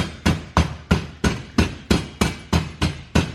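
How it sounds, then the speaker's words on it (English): A rubber hammer taps a car part into place during a Wisefab suspension install on a Nissan 350Z, ten sharp, evenly spaced blows in quick succession, close and loud, with no talking. "also you guys are always hating on my rubber hammer"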